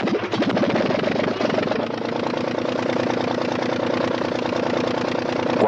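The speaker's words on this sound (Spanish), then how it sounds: "El motor marcha a pedir de boca." An early Anzani aircraft engine running steadily, a loud continuous buzzing drone with rapid rhythmic firing that stays even throughout, with no voices.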